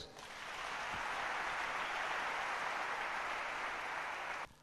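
A church congregation claps together in sustained, dense applause for the Lord, a steady wash of many hands held evenly for a few seconds before it cuts off.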